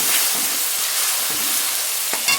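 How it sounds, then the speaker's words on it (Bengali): Turmeric and cumin powders frying in oil inside a pressure cooker, a steady close sizzling hiss with a few brief clinks of stirring near the end. "এবার ভালো করে কষিয়ে নেবো সব মশলাগুলো এর সাথে।"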